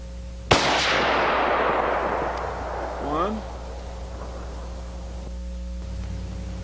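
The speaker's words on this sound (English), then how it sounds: "let's shoot a couple of groups here" A single loud rifle shot, from an Israeli FAL or M1A firing military surplus ammunition, cracks out and booms away in a long echoing tail outdoors, with a faint metallic clink a few seconds later.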